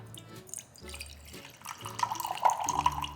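Iced tea poured from a container into a glass along a spoon, giving a soft, uneven trickle and dribble of liquid that grows busier and splashier toward the end, close by with no talking.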